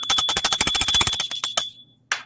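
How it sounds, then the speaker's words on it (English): A small handheld bell rung rapidly and continuously for about a second and a half, loud and close, then a short pause and one final brief ring. "I said you're killing me with that bell."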